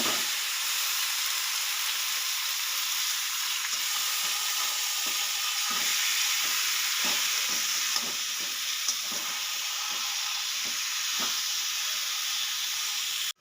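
Taro greens with split green chillies frying in a pan, a steady close sizzle and hiss running throughout, with light scraping stirs now and then.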